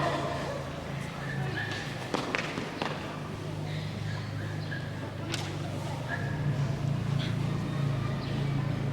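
Horse hooves clip-clop in a few scattered beats over a steady low hum and busy background noise.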